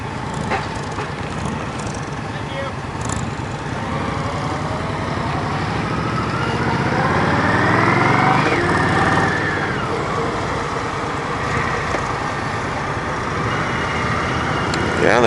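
A 2016 Indian Scout 60 motorcycle with a five-speed gearbox, ridden on the road, giving a steady engine drone with wind noise that swells and rises in pitch midway, then settles.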